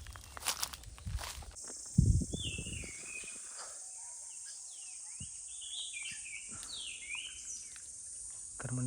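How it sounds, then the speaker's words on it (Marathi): Evening birdsong in a Konkan village mango orchard: scattered thin chirps and whistles drift in the distance over a quiet cricket hum, after a few nearby rustling footsteps at the start. "तर मंडळी संध्याकाळ होतं आणि पक्ष्यांचा आवाज बघा"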